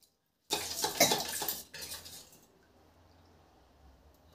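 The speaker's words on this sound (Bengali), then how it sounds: "অল্প অল্প জল দিয়ে মাখিয়ে নিব। একদম একটা পাতলা ব্যাটার করে নিব।" Thin batter being stirred in a bowl with a spoon, a second of brisk wet scraping and clinking, then a shorter burst before it fades into quiet room tone.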